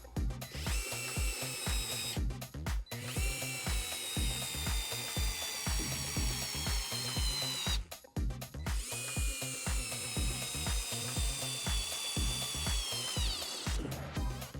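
Mini electric screwdriver driving 50mm Phillips screws at three speed settings: a steady whirring motor with rhythmic ratcheting clicks in two long runs split by a brief stop, close and clear.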